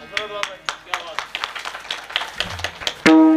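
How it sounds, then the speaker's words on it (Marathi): Scattered hand claps from a women's group at a devotional kirtan gathering, irregular and moderately close, with a brief tonal note at the end. "महिला मंडळ टाळ्या वाजवा त्यांच्यासाठी."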